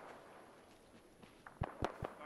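Rocket launcher fire in the Arma 3 military video game: a few short, sharp cracking bursts at close range in quick succession, ending the clip after a quiet stretch of background ambience.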